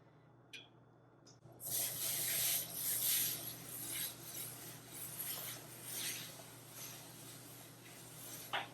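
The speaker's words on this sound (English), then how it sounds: "Okay, so I've got my loaf here, and I'm just gonna start kneading." Wholemeal bread dough is kneaded by hand on an olive-oiled work surface, giving a soft, repeated rubbing and slapping texture after a quiet start, close and steady with no talking.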